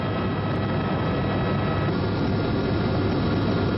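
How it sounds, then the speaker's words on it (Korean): Inside a helicopter cruising over the Niagara River in winter, a loud steady engine and rotor drone fills the cabin without pause or speech. "헬리콥터의 비행 거리는 총 27km."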